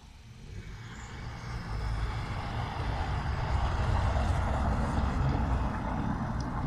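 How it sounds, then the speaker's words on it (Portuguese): Cars and trucks pass on the street below an apartment: a steady low traffic rumble that rises within the first two seconds and holds as a continuous distant roar, with no talking. "passa carro aqui embaixo na rua"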